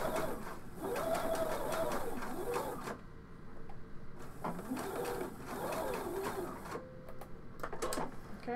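A domestic sewing machine backstitches a fabric bandana, its rapid needle chatter running in short bursts with brief pauses as the stitch direction reverses, close and clear with no talking.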